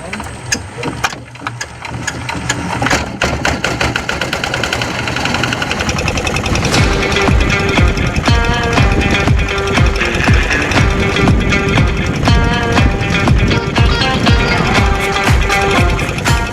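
The engine of a small fishing boat starts up and moves off toward an estuary fishing spot, a loud, steady, rapid mechanical chugging that builds and holds.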